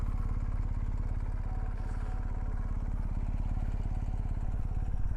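A BMW R1250GS motorcycle rolls down a steep, wet mountain trail, its engine giving a steady, close, low throbbing drone with even pulses and faint clatter throughout.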